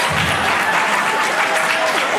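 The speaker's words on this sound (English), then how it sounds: "Give them a great round of applause." An audience at a San Diego Comic-Con 2019 panel for Life is Strange 2 claps loudly and continuously, a dense, even wash of applause from a large crowd throughout.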